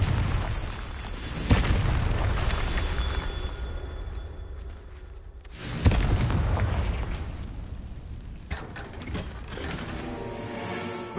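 Spell explosions from a fantasy video game burst out in loud, booming blasts, two big impacts around a couple of seconds and six seconds, over a continuous dense rumble of game effects and mechanical clatter.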